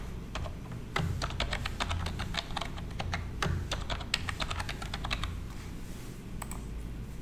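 Fingers type a username on a computer keyboard, a close, rapid run of crisp key clicks in uneven bursts over a low steady background hum.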